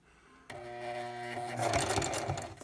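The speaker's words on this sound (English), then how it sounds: "Put a bar tack in, and I don't have to hold the thread because it's locked to the last buttonhole." A Singer 4411 sewing machine stitches a buttonhole bar tack, its steady mechanical whir starting abruptly and running continuously with rising clatter, close and alone.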